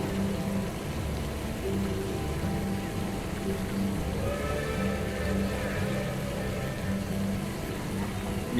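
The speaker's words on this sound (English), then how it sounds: "Getting rained on." Rain falls at the Cedar Point amusement park as a steady, dense hiss of drops on surfaces, with low background rumble and faint distant voices mixed in throughout.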